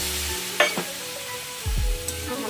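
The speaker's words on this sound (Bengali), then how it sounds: "চিনি দিয়ে আবার একটু নাড়বো" A spoon stirs sugar into a vegetarian curry cooking in a pan, a few close scraping and clinking strokes over a soft sizzle, with a low background hum and no voices.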